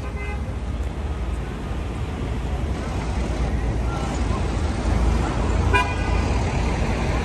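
Heavy city street traffic in stalled congestion, a steady rumble of cars and engines with a couple of short horn toots, heard close from within the flow of vehicles.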